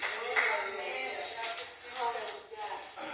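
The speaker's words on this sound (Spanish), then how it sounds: "Le damos un aplauso al Señor que ya tiene listo el milagro" A church congregation breaks into sustained applause during a Spanish-language worship service, a dense wash of many hands clapping at a steady level for about three seconds, with faint crowd voices mingled underneath.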